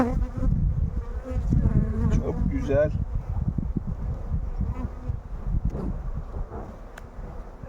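Dense, steady buzzing of many honey bees close by at a hive, with a brief spoken remark partway through.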